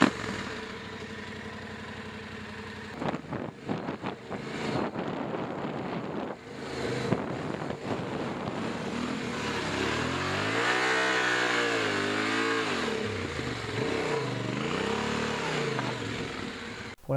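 Yamaha 700 Ténéré motorcycle riding on sand, its engine revving and surging with rising and falling pitch under loud wind buffeting, the rider close to the microphone.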